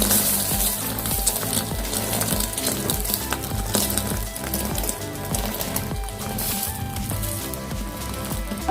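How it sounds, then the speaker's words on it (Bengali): Steady, dense sizzling and crackling of roti coated in beaten egg frying in hot oil in a pan, continuous and close throughout. "দুটো রুটি ভাজা হয়ে গেছে।"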